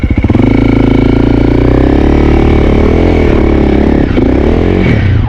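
Honda CRF 300L with a Yoshimura exhaust, its engine running loud and close throughout with steady rumbling and a brief dip in revs near the end.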